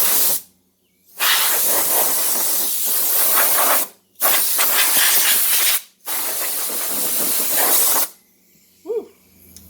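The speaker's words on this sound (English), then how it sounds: "Anyway, we got the air compressor. Got about 100 psi." Compressed air at about 100 psi blasts through an Onkyo A-8037 amplifier in four loud, sustained hissing bursts separated by short pauses, with no talking.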